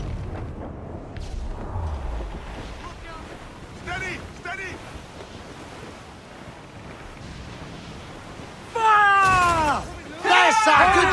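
Ship cannon fire in Assassin's Creed IV Black Flag comes as heavy booms over wind and surf during a naval battle, with crew shouting through the fight and loud bursts near the end.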